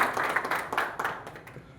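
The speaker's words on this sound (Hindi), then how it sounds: "तालियां लगा दो जी" Audience clapping during a strength demonstration show, a short run of scattered claps that rise and trail off, with no speech over it.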